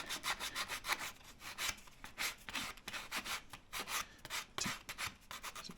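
Hand sanding of a diamond willow walking stick with 80 grit sandpaper makes a rapid, rhythmic back-and-forth rasping, close and steady, with no voices.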